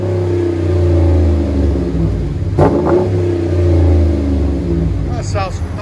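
A Dodge Ram with a 5.7L HEMI V8 and MagnaFlow Outlaw series exhaust revs, a steady deep rumble with a sharp blip near the middle, while people talk over it.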